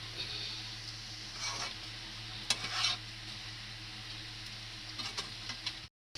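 Carrot halwa with condensed milk sizzling softly in a pan, with a steady low frying hiss and a few scraping strokes of a spoon stirring, close and quiet, ending in a brief silence.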